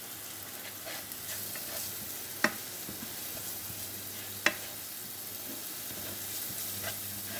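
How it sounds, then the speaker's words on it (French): Onions sizzling in a frying pan while being stirred regularly, a quiet steady crackling hiss with two sharp spoon clinks against the pan and no talk. "Là, on remue bien les oignons."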